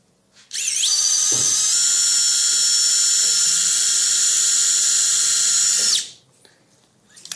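Surgical drill bores through the guide for an expert tibial nail, a loud high-pitched whine that spins up, holds steady for about five seconds and winds down, close by.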